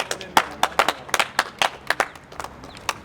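Scattered applause from an audience honoring a man, a few distinct claps in an uneven rhythm, close and fairly loud, thinning rather than a full ovation.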